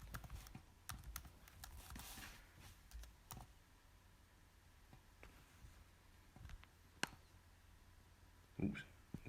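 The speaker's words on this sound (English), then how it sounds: "delete the completion and type in my name here" Typing on a computer keyboard: scattered light key clicks that come quick at first and then thin out, quiet and close, with faint talk in the background.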